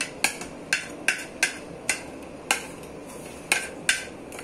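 Sharp clinks and taps at an uneven pace, about ten in all, as onion chutney ingredients are dropped into the small jar of a mixer grinder, close and clear with no talk.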